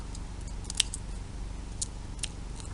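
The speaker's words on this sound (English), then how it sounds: "Now we're going to trim off this excess paper." Scissors trim excess paper in a DIY perfume mist craft project. There are a few sharp, close snips spaced irregularly over a soft background hiss, with no talking.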